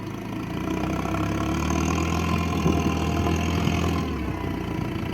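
A YuMZ tractor engine idles with a steady low rumble, holding a constant throb throughout without revving.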